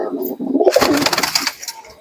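Giribaz pigeons coo close by, a soft warbling burst that gives way to a brief rustle of movement, with a voice speaking faintly alongside.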